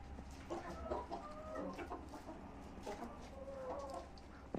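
Chickens cluck nearby in short, repeated bursts at a low level, with soft farmyard ambience between the calls.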